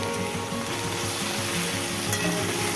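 Gujarati-style okra sabzi with onion fries in a pan while being stirred, giving a continuous close sizzle and crackle with soft scraping throughout.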